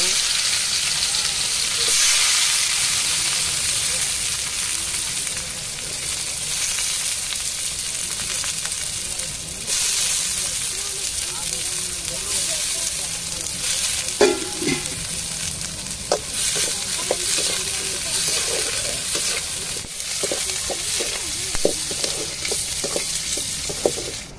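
Onions fry with mustard seeds in a pan for fish puttu, a constant loud sizzle under repeated scraping and stirring, with sharper utensil clinks toward the end; no voices.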